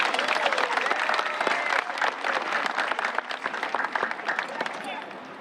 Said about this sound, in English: I'd like us to give a quick round of applause for everyone who's involved in the planning of graduation